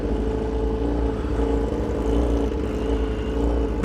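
BMW HP4 Race motorcycle with a straight-pipe exhaust, a steady loud engine drone with a low rumble, held constant throughout with no break.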